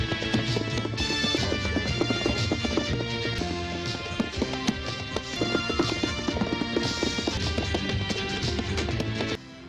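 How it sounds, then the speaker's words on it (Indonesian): A horse gallops through a forest, hooves clip-clopping steadily under a dense, continuous wash of dramatic film music that stays loud throughout. "Untung saja kuda milik Stalker mampu berlari cukup kencang"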